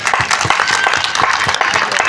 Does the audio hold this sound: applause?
yes